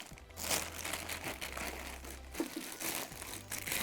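Plastic wrapping and tape are peeled off a McIntosh C2700 preamplifier during unboxing, producing close crinkling and tearing rustles in uneven bursts over a low steady hum, with no talking.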